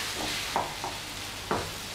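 Potato and onion frying in hot oil for a large Spanish tortilla, a steady broadband sizzle with a few brief stirring scrapes of a utensil, close and alone with no talk.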